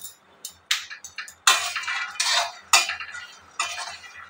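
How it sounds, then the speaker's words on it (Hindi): Peanuts roasting in a pan are stirred with a metal utensil in a home kitchen, giving a series of sharp scraping and clattering strokes, each separated by short pauses, close and moderately loud. "मैं मूँगफली मतलब सिंगाना भून रही हूँ"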